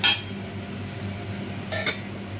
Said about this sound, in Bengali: এবার আবার একটু এটাকে চাপা ঢাকা দিয়ে দেবো।